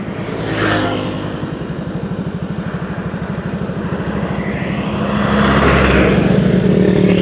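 A vehicle engine drones nearby, then a car rushes past with a swelling roar that rises loud toward the end.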